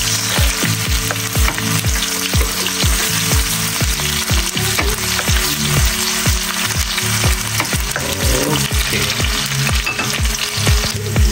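Onion and garlic sauté in a hot pan, a loud continuous sizzle broken by rapid, regular scraping strokes of a spatula stirring close up.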